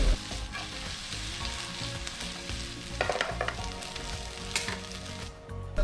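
Tuna being stirred as it fries in a pan: a constant close sizzle with irregular scraping and clinking of the spatula against the pan, and no voices.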